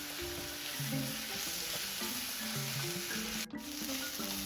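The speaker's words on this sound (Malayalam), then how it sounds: "ജിഞ്ചർ ഗാർലിക്കിൻ്റെയൊക്കെ ആ പച്ചമണം ഒന്ന് പോകുന്നതോടെ വരെ ഒന്ന് വഴറ്റിയെടുക്കാം" Curry leaves, ginger and garlic with onion sauté in a pan, giving a steady continuous sizzle with soft stirring under a tonal musical background, with one brief dropout near the end.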